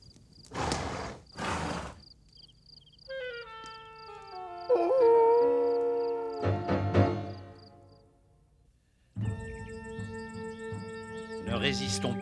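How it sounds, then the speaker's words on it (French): Cartoon coyotes in a desert setting give rising, wavering howls in a chorus, with several overlapping voices swelling and fading across the scene, mixed with music and other sound effects; a voice speaks briefly. "Qu'est-ce que c'est? Des coyotes."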